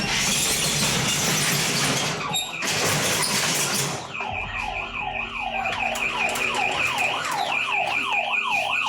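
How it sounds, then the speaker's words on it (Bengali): A shop shutter rattles open with loud metallic scraping and clanking, then a GSM security alarm siren starts, wailing up and down in a fast, steady, loud cycle. "শাটার খোলার সাথে সাথেই উচ্চ শব্দের অ্যালার্ম বাজা শুরু হয়েছে।"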